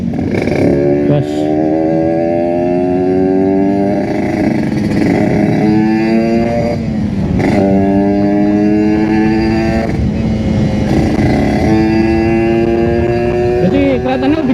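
Kawasaki Ninja RR motorcycle engine revving hard under throttle, loud and close, with repeated rising rev sweeps and gear-change dips throughout, no mirrors fitted.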